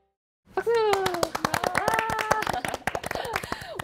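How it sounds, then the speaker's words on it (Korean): A studio audience at a Korean talk show claps in a dense, loud burst that starts abruptly and then tapers, with voices calling out over the applause. "박수!"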